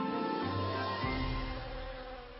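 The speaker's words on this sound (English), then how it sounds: "This hive of bees, it looks really good today" Honeybees droning at a hive, a soft steady buzz of many insects, fairly faint and without voices.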